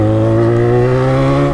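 Car engine revving hard under acceleration, a steady loud drone with strong low harmonics that climb slightly across the short stretch, close and continuous with no talk.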